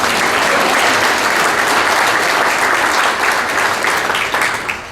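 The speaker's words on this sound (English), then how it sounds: "Give her a round of applause, please." Sustained applause from an audience at a sports hall of fame luncheon and induction ceremony, a dense, loud wash of clapping that holds steady throughout and eases off slightly near the end.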